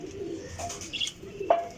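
A pigeon gives a couple of soft, low coos close by, with faint background noise and a brief sharper chirp near the end.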